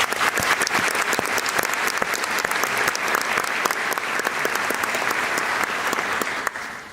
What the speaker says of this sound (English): you deserve your own round of applause